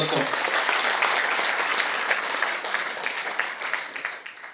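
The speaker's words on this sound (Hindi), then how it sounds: "आप लोग इनका जोरदार तालियों से स्वागत कीजिए" A seminar audience gives loud, dense applause to welcome the society secretary at an agricultural company's event, a continuous roar of clapping that stays full for several seconds and then thins slightly toward the end.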